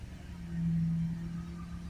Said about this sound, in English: if we hold it up at 3000 RPM, let's try and get up to 3000 RPM there, hold it.